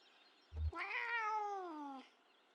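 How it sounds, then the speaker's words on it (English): A cat in the video game Kentucky Route Zero gives a single drawn-out predatory meow, close and clear and alone, with a short low thump just before it. "Predatory meow."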